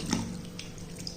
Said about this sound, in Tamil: இதை தண்ணியில் போட்டு கழுவிக்கிடுவோம்.